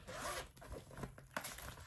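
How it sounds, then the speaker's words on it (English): A zipper on a travel jewelry roll is drawn along its track up close, a continuous rasping run broken by brief pauses over about two seconds. "it has the separate little spots where you can zip them up"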